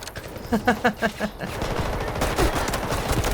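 Pistol gunfire in the video game Delta Force, a quick burst of about five sharp shots in a row, then a continuous noisy stretch of heavier firing.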